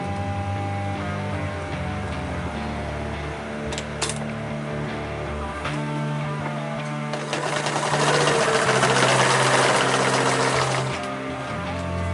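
Sewing machine stitching a rollup backpack with webbing, a steady mechanical whir and rapid needle clatter, pausing briefly, then running louder and faster in a sustained burst, close and alone without speech.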